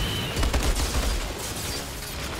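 Rapid machine gun fire in the video game Outriders, a loud, continuous burst of close shots rattling without pause.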